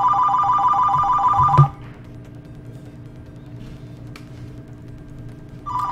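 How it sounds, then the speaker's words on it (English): Electronic telephone ringtone from the Maitre D video game, a loud repeating trill that rings steadily for about a second and a half, stops, then starts again briefly at the end over a quiet background hum. "And the phone's ringing."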